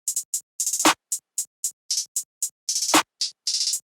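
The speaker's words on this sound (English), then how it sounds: "have a basic clap pattern, and it sounds like this" A sparse electronic beat of short bright hat-like ticks with two sharp claps landing at regular spacing, heard alone.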